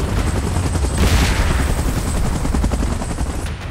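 Evacuation helicopter hovering in position amid a monster battle, its rotor thumping loudly and rapidly up close, steady and continuous with a dense, rattling beat.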